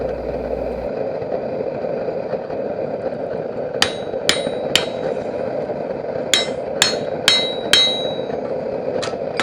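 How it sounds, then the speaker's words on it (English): A blacksmith hammers a punch into hot bar stock to make a square hole for a Viking lock hinge, striking sharp ringing metal blows in two clusters of three to four hits over a steady background hum. "I'm going to punch a round hole in it, or square hole"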